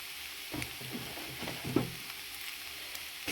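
Spiced mashed potato filling for samosas sizzles in a pan, a soft steady crackle with occasional scraping stirs of a spoon, close and fairly quiet.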